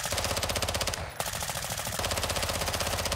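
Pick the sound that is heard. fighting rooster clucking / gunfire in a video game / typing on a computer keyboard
gunfire in a video game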